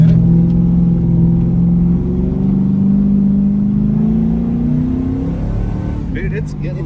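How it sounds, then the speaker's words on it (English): A 1985 Chevrolet C10 squarebody pickup roars loudly and steadily under hard acceleration while spinning a tire, the engine note climbing and then dropping near the end, with voices talking over it. "Dude, it's getting loose. Spinning the tire the whole way."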